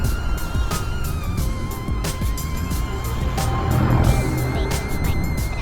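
A 2023 Yamaha NMAX 155 ABS scooter being ridden gives a steady engine drone under heavy wind rush, with repeated clicking ticks throughout and a slight swell in engine noise partway through, recorded up close from the rider.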